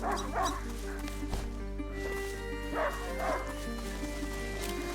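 A dog in the video game A Plague Tale: Innocence barks and yips in a few short, close bursts with a whimpering tone, over a steady low game soundtrack drone.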